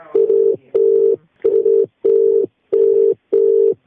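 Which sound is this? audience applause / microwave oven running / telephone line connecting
telephone line connecting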